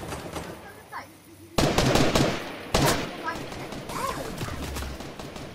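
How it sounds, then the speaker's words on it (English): Fortnite video game gunfire: bursts of rapid automatic shots and sharp single cracks ring out in a busy battle, loud and close, amid game effects with a player's voice in the background. "there's lots of people shooting at me right now."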